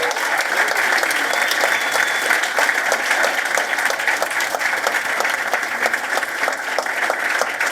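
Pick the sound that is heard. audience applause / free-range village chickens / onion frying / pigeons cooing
audience applause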